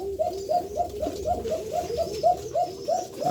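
Several pigeons coo indoors in a steady, repeating series of soft, rounded calls, close and fairly loud, with no other voices around them.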